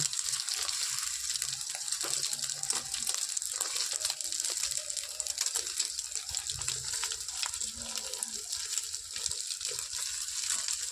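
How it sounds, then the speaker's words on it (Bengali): Beaten egg fries in a pan for egg toast, a continuous soft hiss and crackle of oil that stays even and fairly quiet throughout, with no talking. "ডিমটা ঢেলে দিই ডিমটা হালকা করে ভেজে নিই"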